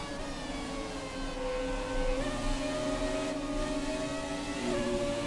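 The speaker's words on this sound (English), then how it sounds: "This car has a much better sound to it than the newer ones." A V12 Formula 1 car engine in the F1 2017 video game, a steady high-pitched whine with shifting harmonics as revs rise and fall, loud and alone without talk.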